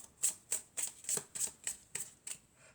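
Oracle cards shuffled by hand during a French card reading, giving about nine crisp riffling bursts in a steady rhythm, close and clear with no talking.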